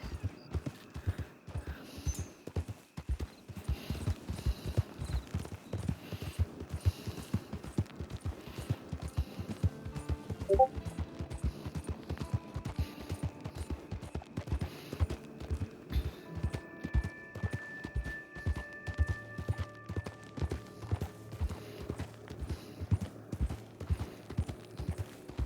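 Horses gallop in the Red Dead video game, their hooves clip-clopping in a steady, dense rhythm for the whole stretch, with an occasional whinny and faint game sounds mixed in.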